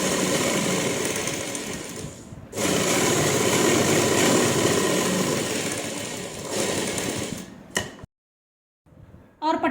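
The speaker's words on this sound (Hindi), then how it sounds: "इसी तरह से दूसरी पट्टी में भी सिलाई लगा लेंगे।" A sewing machine runs in a steady, fast mechanical whir while stitching a fabric strip for an umbrella frock, close and continuous for several seconds, with a short pause, then it stops and a few brief clicks and handling noises follow.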